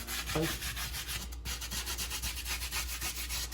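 A stone molcajete is scrubbed during seasoning, steady gritty rubbing strokes repeating closely and evenly with no talking.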